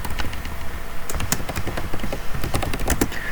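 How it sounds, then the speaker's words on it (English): Rapid, uneven clacking of keys on a computer keyboard, close and fairly loud, with continuous bursts of taps and no voices. "Sorry about the typing"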